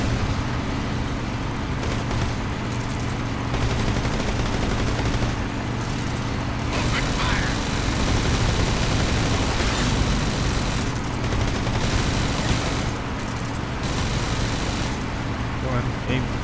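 Dense, rapid bursts of automatic gunfire from a Metal Gear Solid Delta battle, shooting at incoming missiles, loud and nearly continuous over a steady mechanical drone, with a voice talking over it.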